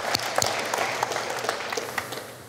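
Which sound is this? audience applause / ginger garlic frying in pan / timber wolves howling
audience applause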